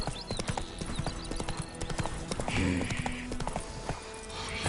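Hooves of a horse clip-clopping at a steady running pace, a dense rhythmic clatter from a fantasy game setting, fairly faint and continuous throughout with no talking.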